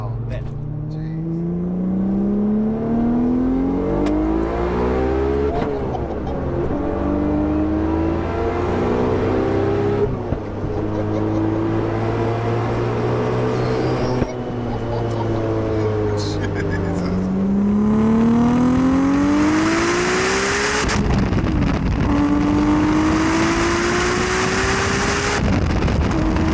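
A heavily modified Audi RS4 B5 with a 1093 bhp stroker V6 engine revs hard, loud and close, its pitch sweeping up and down through repeated climbs with crackly bursts, while people talk over it.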